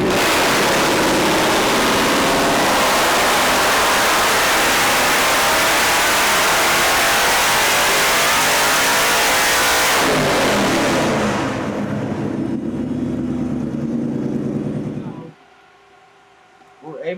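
A 1931 Ford Model A truck with a high-power engine roars at full throttle on a dyno, a loud sustained scream that drops to a rumbling idle and then cuts off near the end.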